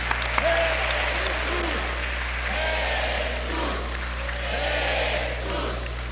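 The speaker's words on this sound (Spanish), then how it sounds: "Un gran aplauso para Jesús." Church congregation applauding during a service, a sustained wash of clapping from many hands with cheers and voices mixed in.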